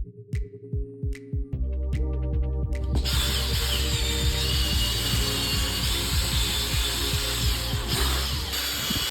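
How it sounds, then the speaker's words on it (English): A drill-driven brush scrubbing dirt out of the carpet of an old Porsche 944, starting with a few short ratcheting bursts before settling into a loud continuous whirring buzz with rapid clicking, close and without talk. "Going in with the brush tool really helps get that dirt loose from the carpet so the wet vac can pick it up."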